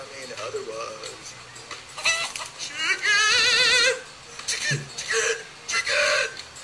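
A chicken clucks in the video game Minecraft: Story Mode, short clucks mixed into busy game sound and music, with people talking over it.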